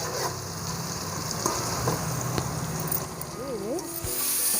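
Onions frying and being stirred in a pan for palav, a steady sizzle with scraping stir sounds running throughout, close and fairly loud, with some background noise and a brief tonal sweep near the end.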